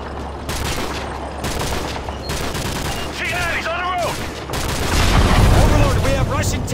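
Battle in Call of Duty: Modern Warfare 3 with bursts of gunfire and booming tank fire over a continuous low rumble, growing heavier toward the end, with radio-style voices speaking amid the combat.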